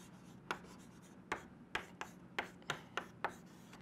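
Marker or pen strokes on a board while working physics equations, a series of sharp scratchy taps roughly every half second, close and crisp over a low steady hum.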